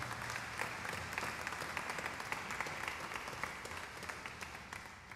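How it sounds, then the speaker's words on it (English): Audience applause at a university's patriotic concert with an orchestra: a steady wash of many hands clapping at a moderate distance, softening slightly toward the end. "Let's give them a round of applause as well."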